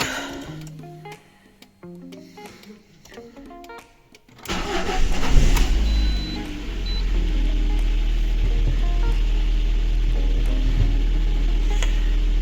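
A Lada Granta engine cranks and starts cold after a few seconds of quiet clicking, then settles into a loud, steady idle with a strong low hum that continues to the end.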